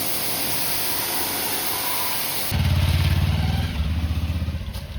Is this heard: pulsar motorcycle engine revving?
yes